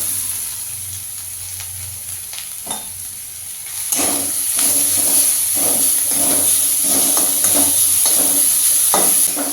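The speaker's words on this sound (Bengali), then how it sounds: "গ্রেট করে রাখা গাজরটা হালকা একটু ভাজা ভাজা হবে" Grated carrot hitting hot oil and sizzling loudly in a pan, a steady crackling hiss that jumps up partway through and keeps going with light stirring.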